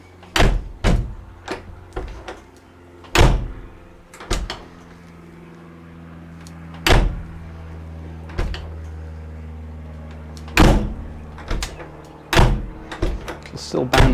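A Rover P5B car door shut repeatedly, a series of sharp, loud thuds and latch clunks at irregular intervals, some followed by faint rattles, with quiet gaps between attempts.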